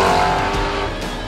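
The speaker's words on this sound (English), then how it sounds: "It has basically the loudest stock exhaust ever made from a factory." A loud, rough stock exhaust of an antique car engine roars up close, its rumble holding steady and then easing slightly.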